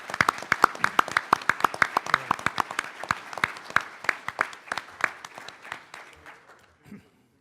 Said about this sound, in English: I'd like us to give them a big round of applause for the great work they do